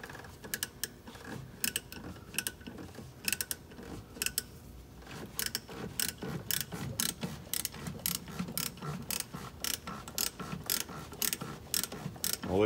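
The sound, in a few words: ratchet tightening a brake slack adjuster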